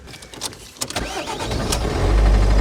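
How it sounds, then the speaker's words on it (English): Ford Focus TDCi diesel engine with a cylinder 1 fault cranks briefly and then catches, rising into a steady, loud, close running rumble with no talking. "So what I did, and I'll do it for you now, is start the car up."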